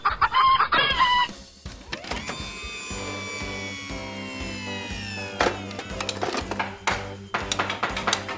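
A cartoon hen clucks and crows in a children's animated garage show with trucks, starting with sharp squawks then giving way to tonal musical effects and rhythmic mechanical clanking.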